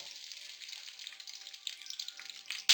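Onions hit hot oil already holding whole spices like black pepper, cumin and bay leaf, giving a soft, continuous crackling sizzle that builds slightly toward the end.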